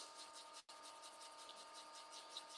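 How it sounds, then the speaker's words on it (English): Continuous light sanding with 120-grit sandpaper on a fountain pen blank, a soft rhythmic scratchy rubbing with a brief pause partway through, close and fairly quiet. "So I'm just going to do a light sanding with 120,"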